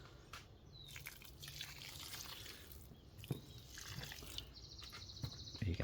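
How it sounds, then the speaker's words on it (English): Water is poured over a worm compost bin, trickling and dripping irregularly, faint and close, with scattered small splashes and no voices. "All right, a little bit more water."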